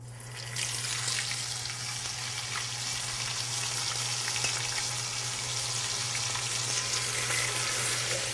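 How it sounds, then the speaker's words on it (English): Breaded chicken deep frying in 350 degree oil, a loud, continuous crackling sizzle with dense bubbling that runs steadily from start to finish, alone with a faint low hum beneath it. "drop it right in my oil. My oil here is 350 degrees"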